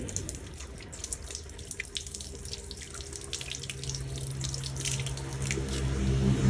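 Water from a household tap runs steadily into a sink while arms are rinsed for ablution, a continuous close splashing hiss that grows slightly louder toward the end, with no voices.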